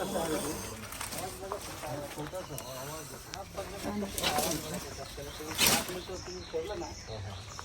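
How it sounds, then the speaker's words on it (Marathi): A breathy, broadband hiss from a cobra rises and falls close by, with a loud burst near the end, while people talk nearby throughout. "आवाज येते बघा मित्रांनो नाग आहे नागाचा आवाज आहे"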